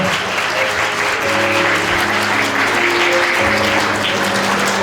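Wedding guests in a hotel banquet hall applaud loudly and continuously, a thick wall of clapping with faint background music tones sustained beneath it.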